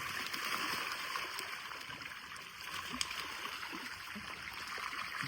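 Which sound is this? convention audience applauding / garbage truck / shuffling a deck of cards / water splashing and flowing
water splashing and flowing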